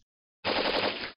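A single burst of rapid gunfire erupts after a moment of silence and runs for under a second, loud and dense.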